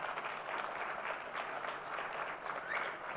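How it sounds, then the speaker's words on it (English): Audience at a business growth meeting applauds new diamond qualifiers with a steady, even wash of clapping from a crowd. "Let's give a big round of applause."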